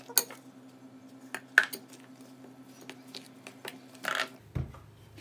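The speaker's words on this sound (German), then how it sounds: "Und jetzt kommt Buttermilch dazu. Und umrühren." A spoon clinks and scrapes in a bowl as buttermilk is stirred into cornmeal bread batter, producing sparse sharp taps with quiet wet squishing between them. A dull knock sounds near the end.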